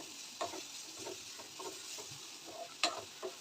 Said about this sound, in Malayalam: ഇച്ചിരി മഞ്ഞൾപ്പൊടി ചേർത്ത് നന്നായിട്ടൊന്ന് മിക്സ് ചെയ്ത് വെച്ച് കൊടുത്തിട്ട്